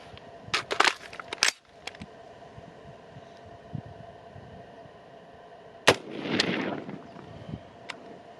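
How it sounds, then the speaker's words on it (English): A .223 rifle firing 55 gr FMJ handloads into ballistic gel: sharp bursts of cracks early on, then after a quiet stretch a single loud report with a brief rumbling tail, heard outdoors without talking. "So let's take another shot and see if we can capture that bullet"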